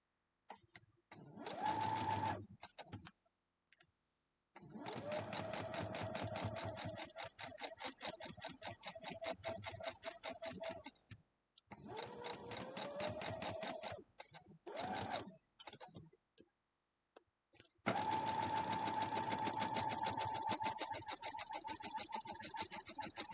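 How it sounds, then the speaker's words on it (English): A domestic sewing machine stitches a quilt block in several steady bursts of rapid, even needle chatter. Short silences separate the runs, and a faint motor whine rises at the start of each run. "we'll head over and sew this"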